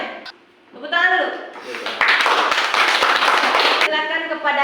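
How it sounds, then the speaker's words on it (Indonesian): A classroom of students claps together in loud, sustained applause lasting a few seconds, with a voice speaking briefly before and after. "Tepuk tangan dulu."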